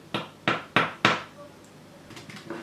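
Four sharp, crisp taps in quick succession on dried, crisp cookies, hard dry clicks close by, followed by a few fainter light knocks.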